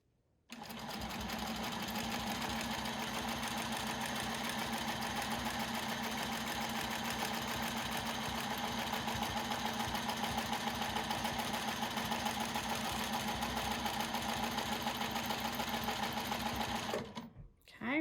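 A sewing machine runs steadily and close for about seventeen seconds, stitching quilt petal shapes along a Westalee ruler in a fast, even hum that stops abruptly at the end.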